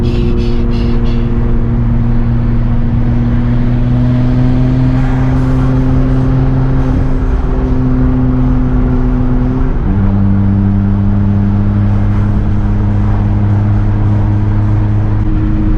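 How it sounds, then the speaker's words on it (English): A 650 hp Nissan R34 Skyline GT-R turbo engine drives along with the windows open, giving a loud, steady, close engine drone that drops in pitch around a gear change partway through, with no talking. "You have the windows open. You hear the turbo."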